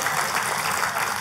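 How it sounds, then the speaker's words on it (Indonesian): A church congregation bursts into a short, steady burst of dense applause, many hands clapping together without a break. "Tepuk tangannya yang paling meriah buat Tuhan kita."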